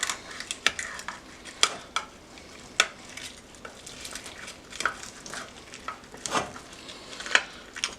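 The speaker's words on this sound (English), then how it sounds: "You can hear the crackling." Macaroni and cheese crackles in a pan while a spoon scrapes and stirs, giving irregular sharp metallic clicks over a steady low sizzle, close and fairly quiet.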